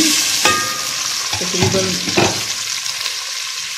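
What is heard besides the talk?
onions frying in oil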